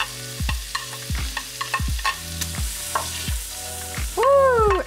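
Ginger and onions frying in butter in a pan, a steady sizzle broken by repeated stirring scrapes and clatters, with a louder burst of sizzling near the end.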